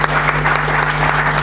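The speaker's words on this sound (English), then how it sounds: "I'll request audience to give a big applause to Mr. Amitabh Kant and Mr. S.P. Singh." Audience applause at a summit lecture event, a steady wash of many hands clapping close and loud throughout the short burst with no talk over it.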